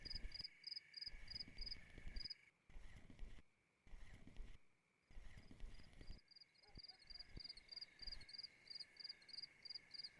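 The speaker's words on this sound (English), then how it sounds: "Crickets are out." Crickets chirp in a video game night scene, a steady high pulsing trill running throughout, with occasional footsteps and thuds underneath.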